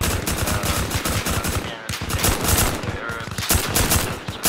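Sustained automatic gunfire crackles in Arma Reforger during a milsim operation in haunted woods, with dense rapid bursts filling the clip, brief gaps between them, and a voice talking over the shooting.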